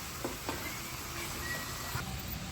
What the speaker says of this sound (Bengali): আলু চিপস ভাজা হয়ে গেছে, এরকম কেমন শব্দ হচ্ছে।